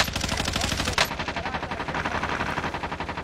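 Gunfire in Call of Duty: Warzone, a rapid run of rhythmic close shots with one sharper, louder crack standing out early on.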